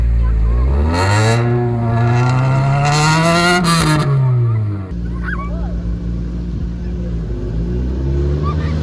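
A rally car engine revs hard and loud, its pitch climbing and falling in long sustained pulls before dropping to a rougher idle with voices faintly audible.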